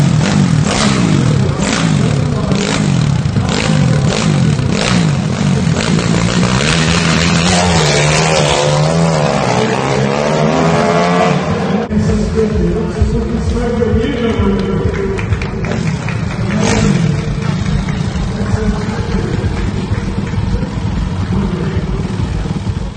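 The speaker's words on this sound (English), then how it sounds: "And here's Karl Fogarty riding my SS250 inside Alexandria Place at a recent motorcycle news show" A Millyard Honda SS250 motorcycle ridden fast indoors at a motorcycle show, its engine loud and continuous, the pitch swinging up and down through repeated revs and gear changes over a busy background hum.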